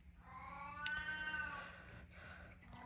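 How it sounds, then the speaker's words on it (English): A house cat lets out a single drawn-out meow, faint and slightly distant, over a quiet room hum with no talking. "my cat is chiming in"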